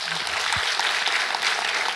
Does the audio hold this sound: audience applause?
yes